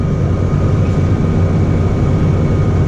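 A tractor-pulled potato harvester works a Pembrokeshire field, with a New Holland T6050 tractor on narrow wheels. Its engine gives a loud, steady, low rumble that is continuous and close, with no talking.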